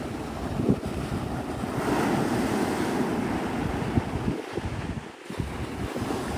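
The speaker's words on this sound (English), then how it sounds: "I can tell the wind is starting to really kick." Steady rush of ocean surf breaking at Navarre Beach at sunrise, with strong wind buffeting the microphone in a constant roar, no voices.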